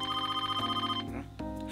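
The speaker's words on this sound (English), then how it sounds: "Phone call." A telephone in the video game Persona 5 rings with a short, bright electronic ringtone whose melody shifts twice before stopping, close and clear with no talking.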